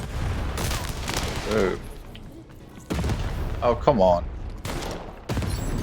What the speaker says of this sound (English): Take cover. The Baroness now has 3 cannons.